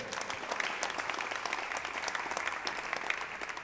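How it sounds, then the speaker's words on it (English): Audience applause at the Predator WPA World 10-Ball women's pool semifinal as Allison Fisher of Great Britain is introduced, a steady, dense wash of clapping from a crowd heard at a moderate distance throughout. "give a big hand of applause to her, ladies and gentlemen, Allison Fischer"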